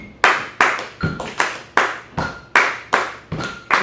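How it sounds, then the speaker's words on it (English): Sharp hand claps in a steady repeating rhythm during a drummer's rhythm class exercise of stepping and clapping, about ten crisp close claps spaced roughly evenly, alone with no talk. "we're gonna step on 1, we're gonna clap 2 and 3"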